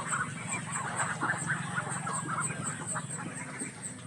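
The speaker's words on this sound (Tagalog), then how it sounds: "Kasi mga itik ko." Ducks on a farm quack in a busy, overlapping chorus, close and fairly loud, with repeated nasal calls over a low background murmur.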